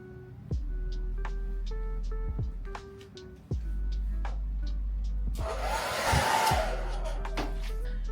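A hair dryer blows on hair with a steady loud whir, cutting off and restarting several times, with its airflow roughening as it moves near the hair.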